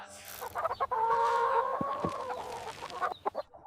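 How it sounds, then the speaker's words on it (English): Laying hens in a countryside chicken yard cluck and call near by, with a few sharp pecking taps at feed in between and quieter rustling at the end. "The chickens will come and peck themselves"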